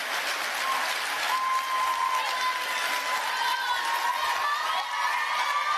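An audience claps in sustained, dense applause at a speaking event, steady and fairly distant, with faint cheers mixed in and no talk over it.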